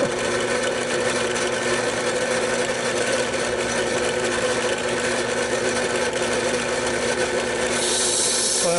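Steady, continuous rasping of a hand file smoothing a port transition on the cylinder head of a 1993 GMC Sonoma's 2.5-liter Iron Duke engine, close and even throughout with no speech.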